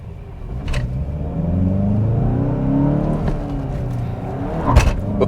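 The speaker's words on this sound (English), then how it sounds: "you guys can kind of hear a little bit of that exhaust every so often" Exhaust of a 2022 VW Golf GTI with a manual gearbox while driving, a steady engine drone with road noise that swells gently mid-way and ends in a brief louder burst, no talking.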